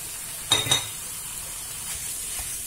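Ground meat for a lasagna bolognese sizzles faintly in a pan, with a brief louder burst of frying and stirring near the start, then a low steady hiss.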